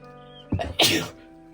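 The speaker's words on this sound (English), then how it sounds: "I had to sneeze some more" A single close sneeze, a short sharp intake followed by a loud explosive burst, then quiet.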